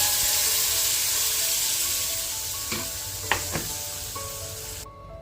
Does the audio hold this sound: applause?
no